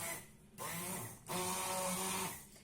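An electric blender whirs steadily as it blends baghrir crêpe batter of semolina and flour, running in two close bursts with a short gap between them. The motor hum is fairly faint.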